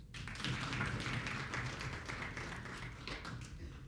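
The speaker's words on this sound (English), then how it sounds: "We might have to clap for that" An audience at the Gonza Pay launch event breaks into applause, a dense steady patter of many hands clapping from some distance, fading slightly toward the end.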